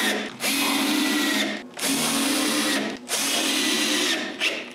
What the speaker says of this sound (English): Then with the pantry on the ground, I drill the holes for the central shelf and put the screws.